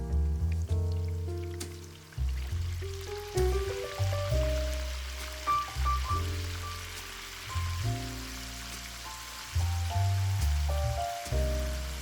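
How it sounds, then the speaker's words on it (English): Battered beef strips fry in oil heated to 325°F, giving a dense, steady crackle and hiss that runs under background music throughout. "Have your oil at 325 degrees Fahrenheit and add in your strips."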